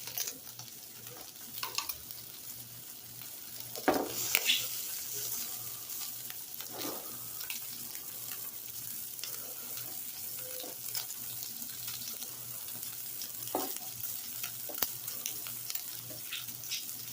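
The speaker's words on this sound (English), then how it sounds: "This is my omelet pan. I like making bacon in here too." Imported Polish bacon fries in an omelet pan, giving a faint, continuous sizzle with occasional sharper crackles and pops, quiet and alone.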